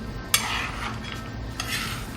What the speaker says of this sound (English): You just kind of scoop it up, dump it in the bowl with the butter.